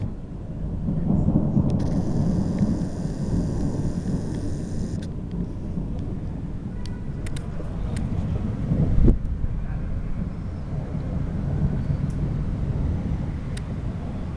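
Rumbling thunder and gusting wind buffet the microphone, with a steady wash of rain beginning underneath and a sharp crack around the middle.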